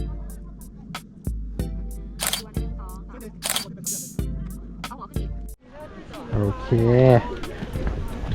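A single-lens reflex camera shutter fires in a quick run of sharp, close clicks at an old village in Oshino Hakkai, Japan, while people talk nearby.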